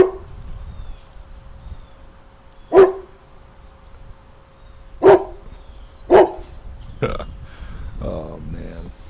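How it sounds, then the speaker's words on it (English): A dog running around outdoors barks several times in sharp, separate bursts, fairly near and loud, with quieter background noise and some talking between the barks. "That's all he's doing, is running around barking."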